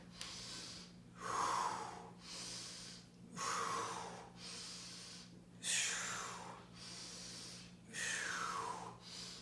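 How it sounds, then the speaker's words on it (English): Slow deep breathing during a stretching exercise, five long inhale-exhale cycles with airy rushes through the nose and mouth, close and steady against a faint low hum. "Breathe in as you extend, exhale as you contract."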